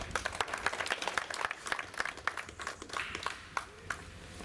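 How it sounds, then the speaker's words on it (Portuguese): Scattered audience applause at an event, sparse individual claps that thin out and taper off, fairly faint and without talk. "Un aplauso, pe."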